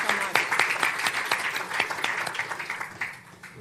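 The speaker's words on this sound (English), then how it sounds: "Let's give them a big round of applause." Audience applause after a panel at an investor forum: dense, lively clapping from a crowd that starts loud and gradually thins and fades over a few seconds.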